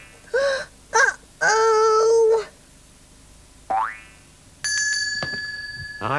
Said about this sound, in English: something beginning with B and it rhymes with well? Oh, that'll be Bell, Stan.